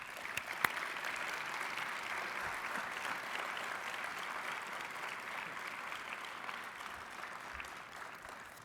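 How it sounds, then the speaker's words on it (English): Sustained audience applause for a panel at a company command teams leadership forum, a dense, even wash of many hands clapping for over eight seconds with no talking. "let's give a round of applause to our panel."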